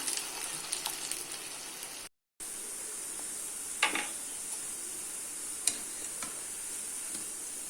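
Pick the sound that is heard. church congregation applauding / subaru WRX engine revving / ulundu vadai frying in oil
ulundu vadai frying in oil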